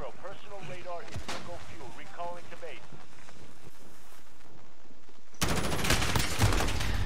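Rapid gunfire bursts out loud in Call of Duty Modern Warfare hardcore team deathmatch on the Azhir Cave map, following a stretch of talk and quieter game sounds before the dense volley erupts near the end.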